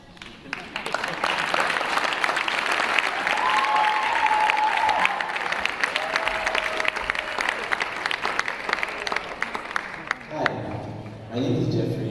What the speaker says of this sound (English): if you are going to clap, clap.